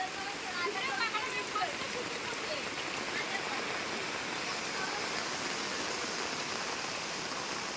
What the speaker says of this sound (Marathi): कुणाजी पाणी बघ इथंच बघ केवढा आलाय तो